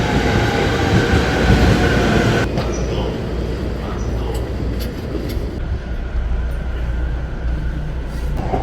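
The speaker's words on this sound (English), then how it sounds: "I have to board the train from that platform." Commuter train at Matsudo station in Japan, a loud, close rumbling roar of a train moving along the platform with rolling wheel noise, softening after a couple of seconds and continuing with faint high squeals and clicks.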